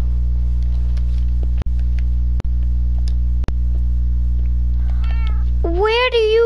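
A cat meowing in the SkyBlock video game: a single drawn-out, wavering meow near the end over a loud steady electrical hum, with a few sharp clicks and faint chirps before it.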